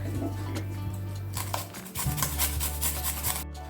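Garlic is rubbed over a small hand grater, producing close, repeated scraping rasps over a low steady hum.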